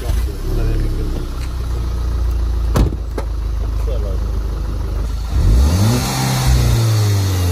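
A VW Golf 6 on its stock exhaust idles, then revs up with a rising and falling roar near the end, close by, with a couple of sharp knocks earlier and people chatting over it.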